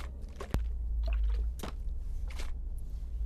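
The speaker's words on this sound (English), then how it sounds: "That's your water bottle rolling around." A plastic water bottle rolls around inside a moving car with 150,000 miles on it, making soft sloshing thumps and squishy knocks over a low steady road rumble.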